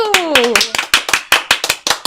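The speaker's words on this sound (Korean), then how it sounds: "박수를 부탁드릴게요." Applause from the audience at an online Go league awards ceremony, a short burst of sharp, rhythmic claps that stay loud and close, with a brief voice at the start.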